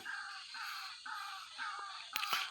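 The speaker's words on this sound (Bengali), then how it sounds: "পাশে ডাক পাখিও ডাকতেছে" A water hen calls nearby in a run of repeated drawn-out wailing notes, rising and falling, followed by a few sharper harsh bursts at the end.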